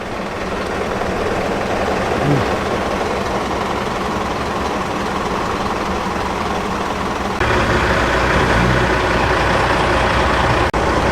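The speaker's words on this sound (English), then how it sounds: "Have to watch it a little bit because some cars are leaving already." Cars leave a car meet at Malpas, a steady rumble of engines idling and pulling away close by, with a louder vehicle passage starting partway through.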